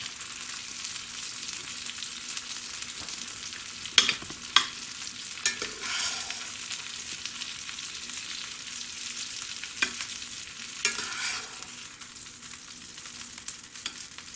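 Maple-brined pork chops sear in a skillet over medium heat, giving a steady, fairly quiet broadband sizzle with a few sharp pops and crackles spread through, no voices over it.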